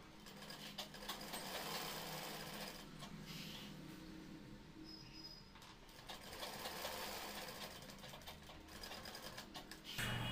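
A sewing machine stitches a chirawa cross pocket with a steady, fast mechanical whirr that runs through the whole span, close up and quiet, with slight swells in pace.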